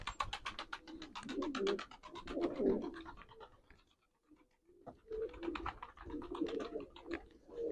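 Pigeons coo softly nearby in a sheltered space, mixed with rapid clicking and fluttering scratches, a brief lull, then the cooing and clatter return.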